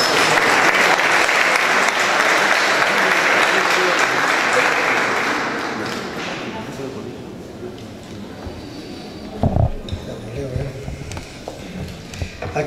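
Applause at the opening ceremony of a national mining congress in Trujillo is loud and dense at first, then fades out about halfway through, and a voice speaks over the quieter remainder.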